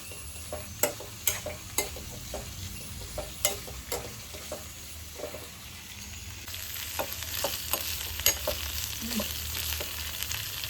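Minced mutton kheema fries in a heavy pan, a steady sizzle broken by repeated sharp scraping strokes of a spoon stirring it, close and continuous with no talk.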